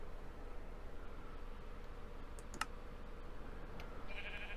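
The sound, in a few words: sheep bleating in the video game Minecraft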